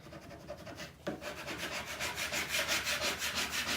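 Transfer tape is rubbed across a wooden flag surface along the grain, producing a close rhythmic scraping with steady back-and-forth strokes that grow louder and more regular, with no talk.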